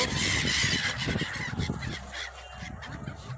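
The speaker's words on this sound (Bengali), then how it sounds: "প্রচুর পাখি" Geese honk loudly and repeatedly at close range from a boat on the river at the Triveni Sangam confluence near Allahabad, with dense overlapping calls that fade slightly toward the end.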